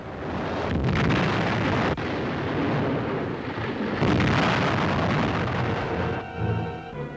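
Deep rumbling blasts and a continuous roar, heavy and booming, as explosions tear through an aircraft carrier.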